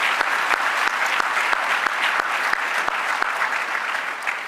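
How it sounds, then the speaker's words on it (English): Warm, sustained applause from an audience fills a hall at an evening lecture in Flint, a dense, even clapping with a few sharper claps standing out, tapering slightly at the end. "Another round of applause for that group,"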